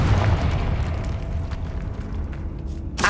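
A Confringo blasting spell explodes in Hogwarts Legacy, a sustained low rumbling roar that fills the whole moment and cuts off abruptly, followed by a brief new burst.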